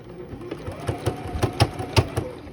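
A sewing machine fitted with a hemming or edge foot topstitches along bulky folded sleeve fabric, giving a close, steady mechanical whirr with soft rhythmic knocks and no talking.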